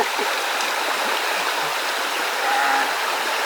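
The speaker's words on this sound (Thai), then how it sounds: "โอ้น้ำไหลลงมานี่" Water of a forest stream flows and splashes in a steady, continuous rush, close and fairly loud throughout, with no voices over it.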